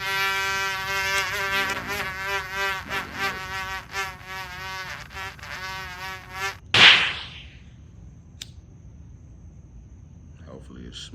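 Close, wavering whine of a little fly buzzing around nearby, droning steadily for several seconds before a sudden sharp burst, then near quiet.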